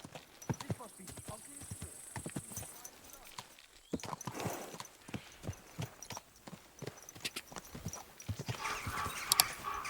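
Rhythmic horse hooves clip-clopping at a steady trot in the video game Kingdom Come: Deliverance 2, fairly close, with a voice speaking over them and a brief whinny-like sound.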